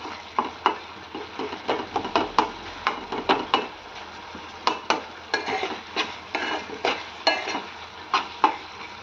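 Eggs cracked into a Telangana-style tomato curry in oil with chili powder and kasuri methi, stirred in the pan: repeated close scraping spoon strokes in a steady rhythm over a faint sizzle, with no voices.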